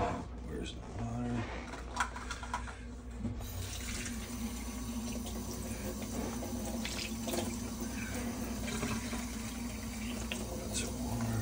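Water runs steadily from a kitchen tap into a sink while a Christmas dinner is being cooked, a continuous splashing hiss with clattering and background talk over it.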